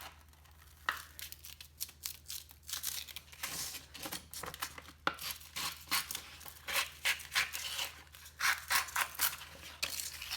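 Sandpaper folded over a 5-in-1 tool edge is torn in a series of short, close, crisp ripping and crinkling bursts at irregular intervals, with no talking.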